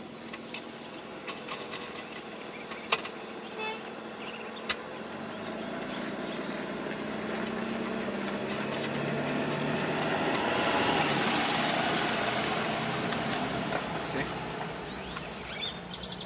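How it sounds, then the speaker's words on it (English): A bus passes on a street beside a driveway repair, its engine rumble swelling from a distance to a peak and fading, with scattered birdsong and a few sharp clanks. "that was a bus"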